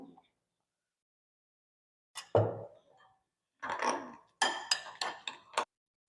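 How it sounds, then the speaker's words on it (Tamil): Curd being stirred with chopped onion in a bowl for a no-cook, no-oil lunch: a few scattered clinks and scrapes of a spoon against the bowl, in short bursts separated by silence. "வெங்காயம் போட்டுக்கிறேன் தயிர் கலந்துக்குவோம்"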